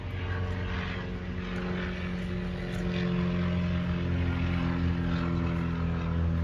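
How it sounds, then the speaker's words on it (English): An aircraft passes overhead above a street in Venice, Los Angeles, giving a steady propeller-like drone that swells slightly midway. The sound is moderately distant and continuous, with no voices heard. "Oh, aircrafts?"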